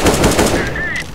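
Rapid automatic gunfire from the CS-GO video game rattles out in a fast, loud burst of repeated shots, followed by a short electronic tone.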